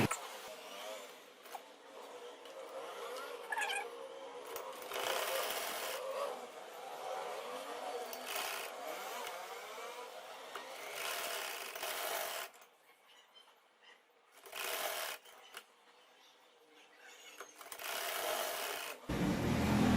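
A sewing machine stitches a strip along the back neck of a kameez, running in quiet buzzing bursts broken by short pauses, close and moderately faint.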